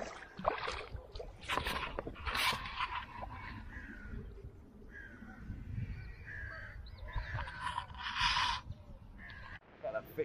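Canoe paddling on the River Thames through a valley, with irregular splashes and dips of the paddle, crows cawing nearby and a person talking over the water sounds.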